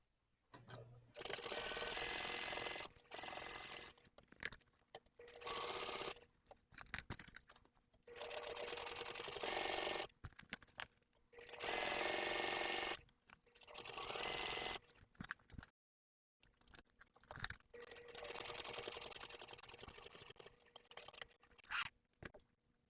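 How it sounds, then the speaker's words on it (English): A sewing machine topstitches along the top edge of a clear vinyl tote bag in several long whirring runs, stopping and starting between bursts, loud and close, with no voice. "once you get that top stitched, your top edge is complete"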